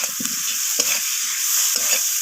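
Chopped tomatoes and eggplant stirred in a hot pan with a metal spatula for a rohu fish curry: a steady sizzle with three or four distinct scraping pushes, close and clear, no speech.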